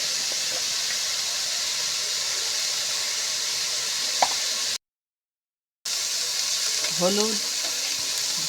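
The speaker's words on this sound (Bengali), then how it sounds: "এইভাবে নেড়ে চেড়ে নিয়ে আমি বেগুনটা ভেজে নেব।" Eggplant fries in a pan with a steady hiss and sizzle, broken by a brief gap, while it is stirred; a voice speaks briefly over the cooking.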